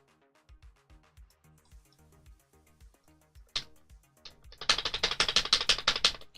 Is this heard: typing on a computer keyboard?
yes